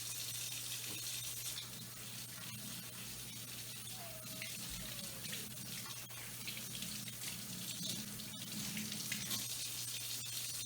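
A faucet runs steadily into a sink during handwashing, a faint, continuous hiss of flowing water throughout with no talking.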